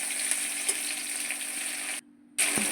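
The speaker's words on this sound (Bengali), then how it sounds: "এবার কড়াইতে আমি পেঁয়াজ ফোড়ন দিলাম, পেঁয়াজটাকে হালকা ভেজে নেব নেড়ে চেড়ে" Onion lightly frying in a wok while being stirred gives a close, steady sizzle, broken once by a brief silent dropout before the crackle resumes.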